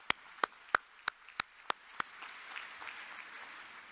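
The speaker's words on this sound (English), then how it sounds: "please, for my sake, one more big applaud for them" Applause at a conference closing ceremony: seven sharp, evenly spaced hand claps ring out close by, then a faint, diffuse patter of clapping fades on in the background.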